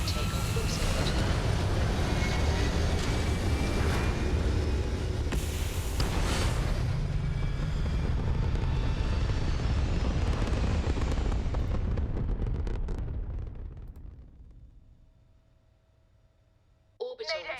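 A spaceship's engines roar at takeoff in the video game Starfield: a dense, loud, rumbling blast holds for several seconds under voices, then fades away into near silence before a brief final sound.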